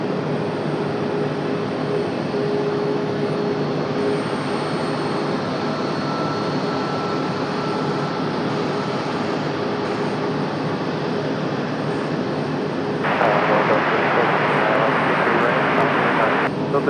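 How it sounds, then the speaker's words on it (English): Boeing 737-800 jet in American Airlines service, 26 years old, arriving at Raleigh-Durham airport in the evening, gives a steady broadband engine roar throughout that grows louder and brighter near the end. "Next arrival, American Airlines 706, coming in from Philadelphia, 737-800"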